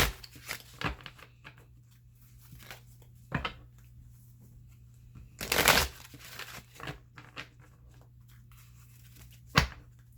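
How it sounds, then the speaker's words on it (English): Wisdom of the Oracle cards shuffled by hand in a quiet room, giving a few soft separate riffles and slides with one louder burst midway, no talking. "I'm going to choose some of the Wisdom of the Oracle cards, also by Colette Baron Reid."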